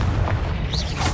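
A Confringo blasting spell from Hogwarts Legacy, heard in Old Hogwarts, lands as a short, dense boom with a continuous crackling roar, loud and close, lasting about a second.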